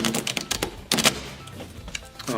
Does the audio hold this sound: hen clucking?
no